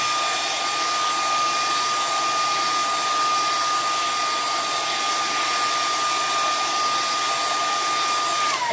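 A hair dryer drying chalk paste on a wreath frame in a Christmas home decor project, blowing with a steady, loud, continuous whoosh and whine throughout, ending with a slight dip in pitch.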